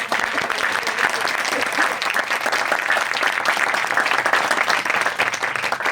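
A congregation at a preaching service in Uttarakhand claps loudly and continuously, a dense, even wash of applause that stays strong from start to finish with a few voices mixed in.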